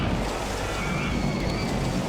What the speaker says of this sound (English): Just bubbling away.